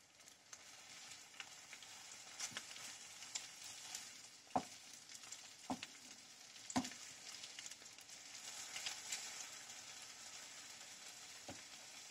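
Butter sizzling in a frying pan over raised heat while cooking eggs, a steady quiet crackle with occasional sharper pops.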